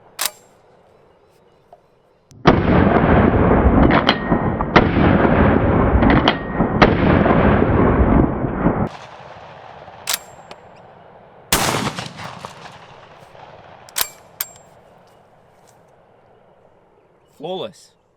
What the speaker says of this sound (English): Let's start firing.